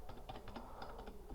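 Someone types a terminal command one-handed on a computer keyboard, a quiet series of irregular clicky keystrokes with short pauses between bursts, nearby and with no talk.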